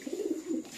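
A pigeon gives one short, soft, low coo, close and clear, among birds kept for sale at a pigeon seller's lofts.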